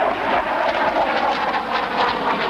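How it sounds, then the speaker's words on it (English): A SEPECAT Jaguar ground-attack jet flies at the RAF Fairford air tattoo, giving a continuous loud jet roar with a slight rise and fall as it passes. "This is the Jaguar, designed and developed by British Aircraft Corporation and Dassault Breguet"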